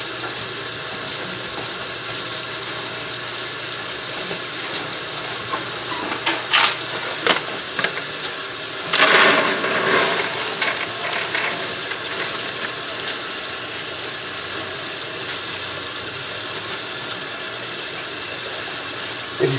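Dry beans being washed in a bowl under running water, a steady close hiss of flowing water with brief splashy swishes and clatters as the beans are stirred.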